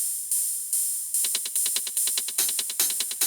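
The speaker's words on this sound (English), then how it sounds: "the last one is this open hi-hat" Bright electronic open hi-hat sample from a hardgroove techno track, sizzling at the very top of the range in steady repeated hits that quicken into a rapid pattern, alone and crisp.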